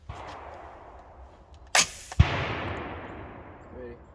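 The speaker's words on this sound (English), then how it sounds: "Couple test shots with some Tula steel just to make sure we zero." An AR-15 rifle fires test shots of Tula steel-cased .223 ammunition at a steel target outdoors, with two sharp, loud cracks close together, each trailing into a rolling echo, over a faint background.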